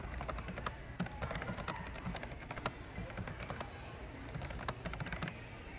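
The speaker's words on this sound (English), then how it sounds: "Make sure you type something in that first box." Fingers tap quickly on a computer keyboard, a close, busy patter of keystrokes with brief pauses and no talking.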